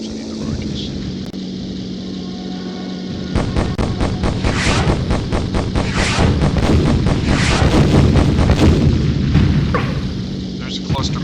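Aircraft rockets fire in rapid bursts in the Beyond Pearl Harbor combat game, a loud, dense series of booming thuds over a constant engine drone, with someone talking throughout.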